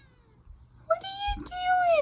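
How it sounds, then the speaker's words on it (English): A domestic cat gives two close, clear meows, the second longer with a falling pitch, over a soft background rustle. "Enjoy those cute cats!"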